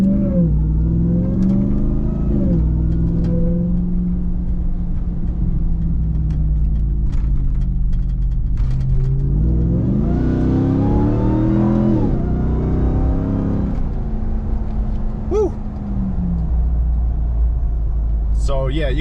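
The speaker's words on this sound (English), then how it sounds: "let's try to hear the supercharger." A 2022 Ram TRX with an AFE cold air intake revs its supercharged engine in steady, sustained pulls, with a rising whine as the revs climb near the middle, loud and close throughout.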